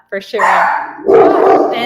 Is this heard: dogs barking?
yes